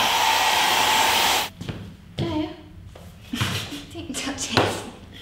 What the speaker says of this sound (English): blow dry your hair, if you put it on a cold heat, then it will set the follicles